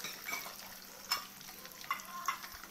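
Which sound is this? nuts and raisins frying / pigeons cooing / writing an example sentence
nuts and raisins frying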